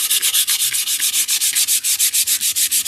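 Steady rhythmic sanding of a small white-painted wooden Easter bunny, about seven strokes per second of loud, close scratchy rubbing with no voices.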